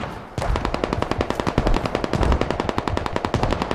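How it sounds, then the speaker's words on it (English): Sustained rapid automatic weapon fire in the video game Squad, during a 100-player counter-insurgency battle on the Harju map, loud and close, a dense continuous burst of overlapping shots with several rhythmic volleys running throughout. "I heard a shot over there"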